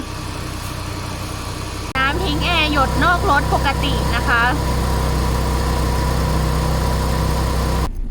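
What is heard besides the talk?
1996 Mitsubishi Galant Ultima engine idling with air conditioning on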